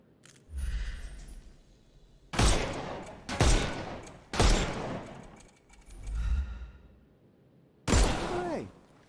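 Sharp gunshots ring out in a Sherlock Holmes video game as enemies' armor is shot off, five or six loud, separated reports with short echoing tails, spaced a second or two apart over a quiet background.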